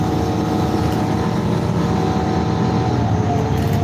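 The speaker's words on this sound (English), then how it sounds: "I'm on the bus." A bus rolling along, its engine droning steadily with a low rumble and broadband road noise that stays constant throughout, no voices over it.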